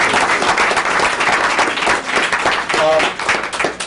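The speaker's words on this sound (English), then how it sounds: "So let's give them a quick round of applause." Audience at a school board meeting claps for a girls cross-country team, a sustained burst of dense, fairly close applause lasting several seconds.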